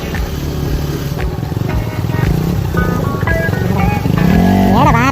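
A motorcycle engine runs loud and close with a steady buzzing drone, rising in pitch toward the end as it revs, with voices talking over it.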